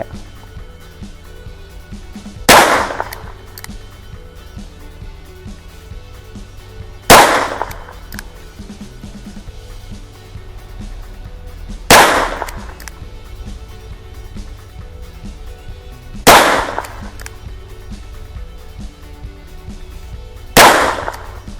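Five loud, sharp shots from a Taurus M992 pistol fired at a target about 10 meters away on a range, each crack evenly spaced roughly five seconds apart over a low steady background hum.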